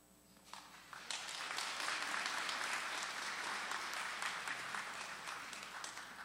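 Steady applause from an audience, starting softly then swelling into a full, sustained round of clapping that continues without pause.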